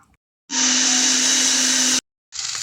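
A loud, steady motor whine of a mixer grinder grinding spice paste with water for fish curry, running for about a second and a half, stopping abruptly, then starting again briefly.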